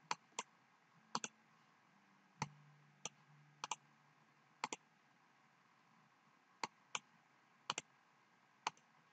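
A computer mouse clicks while working in Cricut Design Space, with sparse, crisp, close clicks, some in quick pairs, over a faint steady room hum.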